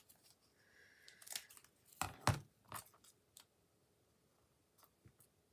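Scissors snip through paper card in a few quick, close cuts. Soft clicks and rustling follow, and the space around them is quiet.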